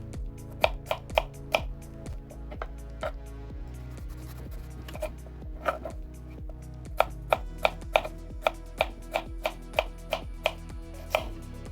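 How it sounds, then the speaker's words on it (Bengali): A knife chops zucchini (courgette) into half-inch pieces on a board, sounding as a long series of crisp, close taps at an uneven, fairly quick rhythm with no talk. "এই সাইজের করে হাফ ইঞ্চি করে কেটে নিচ্ছি"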